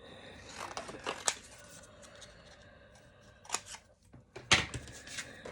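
Scissors snipping paper to cut out a small square for a paper heart rosette craft, a few crisp close cuts in short irregular bursts with quiet rustling between, no talking.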